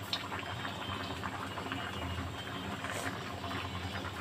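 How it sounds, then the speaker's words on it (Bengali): An egg, potato and eggplant curry simmers in a pot, giving a steady, close bubbling and seething boil that continues evenly throughout with no voices. "এই পর্যায়ে আমি তরকারিটা আরেকবার নেড়ে দিব"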